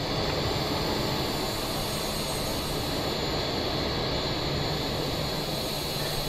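Steady jet-style aircraft engine roar from a flight simulator game, throttle eased back while flying near Brisbane in cloudy weather; a loud, continuous broadband drone holding evenly throughout with no talk.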